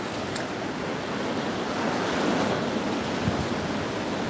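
Morning sea waves washing onto the shore make a steady, broad rushing hiss with gentle swells in loudness, mixed with some wind noise on the microphone and no voices.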